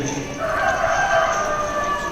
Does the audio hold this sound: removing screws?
no